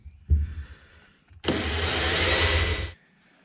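A power drill fitted with a small bit bores a pilot hole for a 5/16 T-bolt in a wooden bed board, giving one steady, loud whirring burst of about a second and a half after a short thump.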